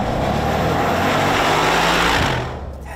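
A loud, throaty V8 engine of a 2019 Mercedes G63 AMG roars steadily under acceleration up close in sport mode, then eases off near the end.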